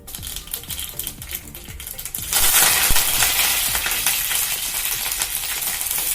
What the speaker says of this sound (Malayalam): കടുക് പൊട്ടിക്കഴിഞ്ഞാൽ അതിലേക്ക് കറിവേപ്പില ആഡ് ചെയ്ത് കൊടുക്കാം.